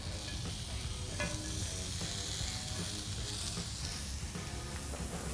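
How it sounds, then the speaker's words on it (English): Onions laid on a charcoal griddle outdoors in cold weather give a faint, steady sizzle and crackle with light scraping throughout, no voices. "Lay down some onions first."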